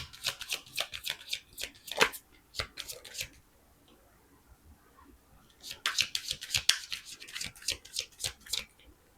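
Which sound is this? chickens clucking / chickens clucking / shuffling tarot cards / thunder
shuffling tarot cards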